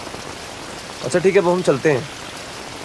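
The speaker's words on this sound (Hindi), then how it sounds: "बारिश हो रही है" Steady rain falls throughout a Hindi film scene, an even wash of noise under a brief spoken exchange in the middle.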